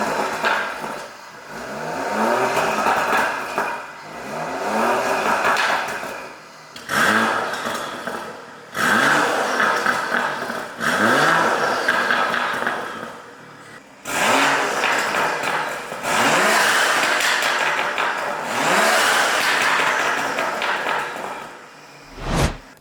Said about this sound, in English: there's a nice 540i just come in for a full Remus exhaust